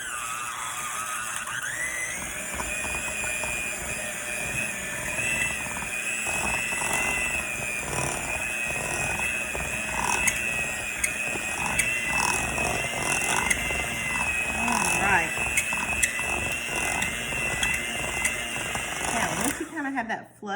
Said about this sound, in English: So mix that up with an electric mixer.